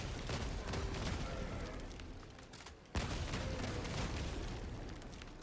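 Autocannon fire in a tank combat video game, a dense run of rapid booming shots with a brief break near the middle, loud and close, with no talking.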